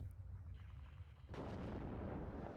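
Artillery fire in the real-time strategy game WARNO: a low rumble gives way to a sudden heavy boom about halfway through, followed by dense, sustained rolling blasts.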